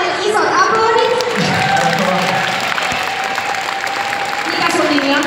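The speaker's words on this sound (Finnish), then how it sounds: "Annetaan hänelle isot aplodit." Big applause from a live audience at a stage event with two performers, a dense steady roar of clapping and cheering with talk underneath, lasting throughout.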